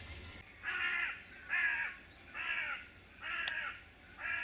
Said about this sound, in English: Only reason I looked over there is I could hear the crows having a fit.